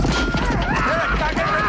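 Horses gallop into a medieval battle in fog, with a dense, steady clatter of hooves, whinnies and shouting voices layered over dramatic film music, loud and continuous throughout.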